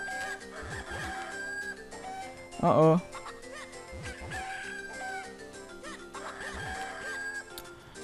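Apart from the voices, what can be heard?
chickens clucking in video game Zelda The Minish Cap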